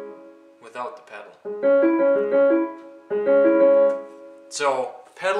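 Two short piano phrases play with notes cut off cleanly and gaps between them, with a voice speaking briefly around them.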